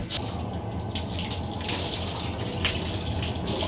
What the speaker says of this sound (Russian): На самом деле хорошая, в общем-то, вода, вполне себе теплая и горячая.